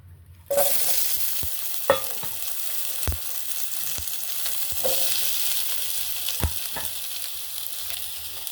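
Cut capsicum and square-chopped onion sauté in a pan, starting with a sudden loud sizzle that stays steady and bright throughout, broken by occasional clicks and taps of a spatula, close with no talking.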